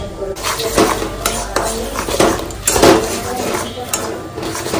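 Spice paste for ghugni with peas is poured into a pan and stirred, with close kitchen clatter and scraping of utensils against the pan, and a voice talking throughout.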